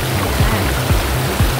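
B2 Falls in Jubgan, a waterfall giving a loud, steady rushing roar of water with no voices heard over it.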